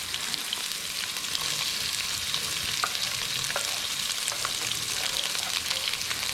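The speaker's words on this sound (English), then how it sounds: "I'm going to put in 1 chopped brown onion" Chopped brown onion hitting hot oil with seeds already popping in the pan for a Sri Lankan egg curry, a steady dense sizzle with occasional sharp pops and stirring, no voices.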